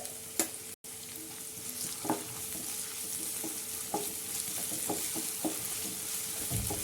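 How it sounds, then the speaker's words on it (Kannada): Ginger garlic paste with cut green chillies frying in a pan, a soft continuous sizzle with a few sharper scrapes or stirring taps at intervals, quiet and close with no talking. "ಶುಂಠಿ ಬೆಳ್ಳುಳ್ಳಿ ಪೇಸ್ಟು ಹಸಿ ಸ್ಮೆಲ್ ಹೋಗೋವರೆಗೂ ಸ್ವಲ್ಪ ಫ್ರೈ ಮಾಡ್ಕೊಳ್ಳೋಣ."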